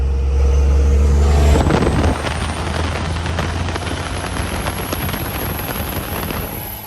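Pickup truck with a manual gearbox pulling away on the road, its loud low engine drone rising in pitch as it accelerates, then settling into steady wind and road noise with no talking.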